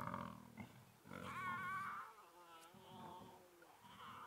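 Lion cubs scuffle and growl at close range beside a safari jeep at sunset, with rough, rumbling snarls in bursts that rise and fall over a few seconds.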